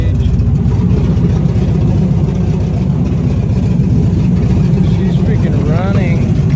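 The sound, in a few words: V8 engine running in Chevy S10 truck after first start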